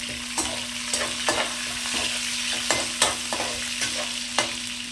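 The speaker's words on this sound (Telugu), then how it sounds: "ఇది కూడా నీట్గా ఫ్రై చేసుకోవాలి" Spices fry in a pan for an egg fry dish, a constant sizzle punctuated by regular scraping knocks of a spoon stirring roughly every half second, close and clear with no talk.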